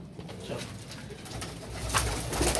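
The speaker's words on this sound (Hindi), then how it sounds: "ये इसे कहते हैं टेडी कबूतर" Soft, low cooing from a Teddy pigeon nearby, repeated a few times against quiet background noise.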